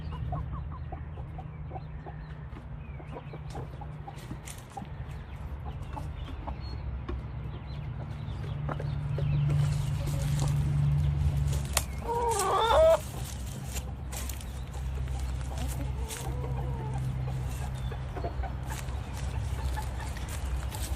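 Chickens cluck steadily nearby in a coop over a low constant hum, with a few louder squawks partway through; no one speaks.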